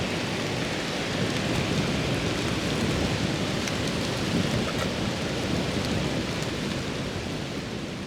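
Heavy rain pours in a steady, dense hiss with no letup, close and loud throughout, in Da Nang, Vietnam.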